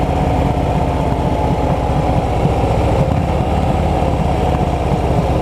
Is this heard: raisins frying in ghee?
no